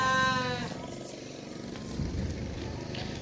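A large four-toothed male goat at a Pakistani livestock market gives a loud, close bleat at the start, followed by the busy crowd noise and chatter of the market.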